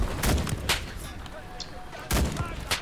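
Kar98 bolt-action rifle fire in the shooter game Enlisted: a few loud, sharp shots spaced irregularly, booming close amid battlefield noise.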